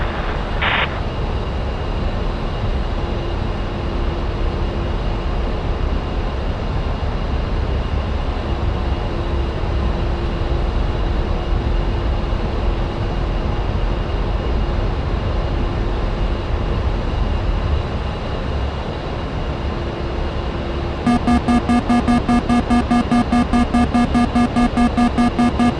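A-10C jet in the DCS flight simulator rolling down the runway for takeoff, a loud continuous engine roar with steady hum, joined near the end by a sharper pulsing tonal buzz.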